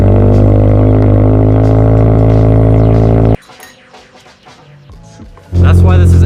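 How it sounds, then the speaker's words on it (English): A loud, steady exhaust from a Subaru BRZ or Toyota GR86 drones after engine start, drops away to quieter rumbling for a couple of seconds, then surges back. "That sound is worth wrapping heat tape around the exhaust"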